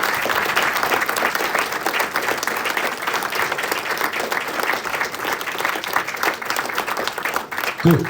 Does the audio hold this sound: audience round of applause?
yes